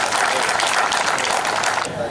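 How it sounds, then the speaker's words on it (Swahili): Sustained applause from a large crowd at an outdoor political gathering, dense and loud clapping that runs steadily throughout and eases slightly at the end. "Naomba tuwapigie makofi mengi sana."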